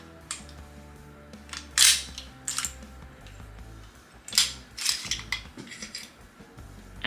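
Metallic clicks and scrapes as a 1911 pistol slide is pushed forward during disassembly, several sharp close clacks spaced over a quiet background.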